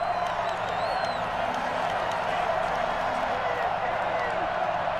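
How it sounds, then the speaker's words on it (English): Football stadium crowd at a Raiders game roars and cheers ahead of a big third down, a dense, steady wash of noise with scattered whoops, heard under an announcer's voice. "The crowd getting into it as we come up on a big 3rd down."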